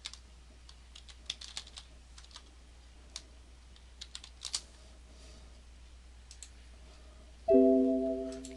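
Fingers tap a computer keyboard in sparse, scattered bursts of light clicks in a quiet room, with a faint steady hum underneath, before a louder tonal chime sounds near the end.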